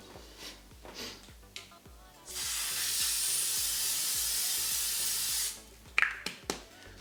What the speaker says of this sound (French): On va fixer le tout avec le spray infaillible de chez L'Oréal.